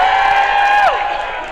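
Women in a theater audience aboard the MSC Seaside cheering loudly for a family comedy show, a dense roar of high-pitched whoops and shouts that tails off after about a second.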